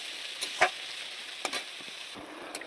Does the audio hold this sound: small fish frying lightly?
yes